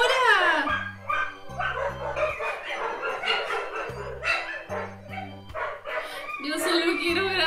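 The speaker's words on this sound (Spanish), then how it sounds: "¿Por qué ladran ahora?" Several dogs bark in loud, repeated bursts, some yipping and whimpering, close by in a noisy home while people talk and shout over them.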